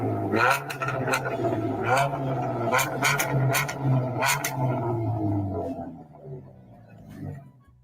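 A powerful, souped-up car engine revs repeatedly with a deep, beefy roar and sharp bursts of acceleration, then settles to a lower rumble near the end.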